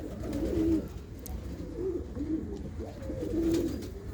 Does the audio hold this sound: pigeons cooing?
yes